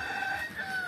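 Chickens at a small coop on a rural property in Catende, Pernambuco, with a brief, continuous clucking and crowing call sounding fairly close over a faint background.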